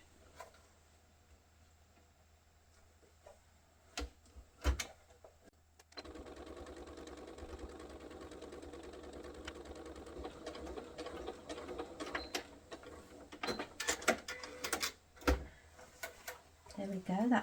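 A sewing machine stitches the strap of a foldaway shopping bag, running in short bursts and then a longer rattling run, with scattered clicks and a person talking quietly throughout.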